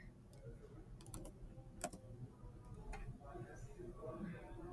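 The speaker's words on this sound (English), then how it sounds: "Let's say in Z-axis, I am typing in 100." Computer keyboard typing while entering a value into 3D design software, soft scattered key clicks in a few quick bursts under a quiet background.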